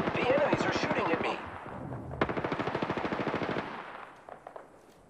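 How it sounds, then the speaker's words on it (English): Rapid enemy gunfire in Apex Legends, a long burst of repeated shots with a sharp crack near the middle, loud and close, trailing into a few scattered shots at the end; a voice speaks over the start. "The enemies are shooting at me."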